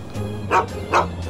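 Two sharp barks from a companion dog in the Fallout 3 video game, spaced a short beat apart and fairly close, over a steady low game background hum.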